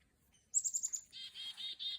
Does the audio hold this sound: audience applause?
no